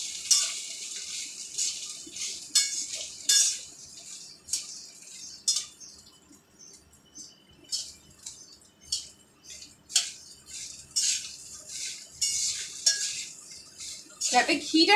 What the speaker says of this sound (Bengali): এবার আমি হালকা হাতে সম্পূর্ণ ভাতটাকে একটু নাড়াচাড়া করব।